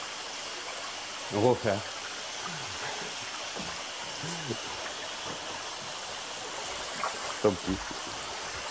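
Running water rinses emulsion off a printing screen as a steady hiss under the whole stretch, with a few faint knocks and someone speaking briefly over it.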